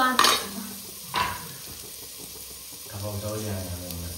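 Onions fry in hot oil in a pan, with soft sizzling under a couple of sharp clinks of a utensil against the pan and a stirring scrape, heard close by.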